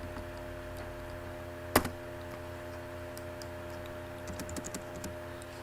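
Code typed on a computer keyboard: a sharp single keystroke, then a quick cluster of light key clicks later, faint under a steady background hum.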